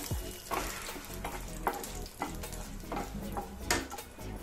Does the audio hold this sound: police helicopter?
no